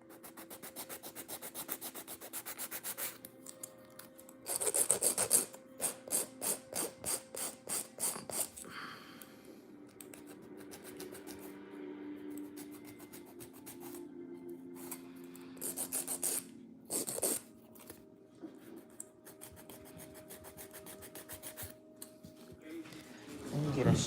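A nail file rasps across gel-x acrylic nail tips in quick back-and-forth strokes, close and crisp, coming in bursts separated by quieter pauses and small handling clicks.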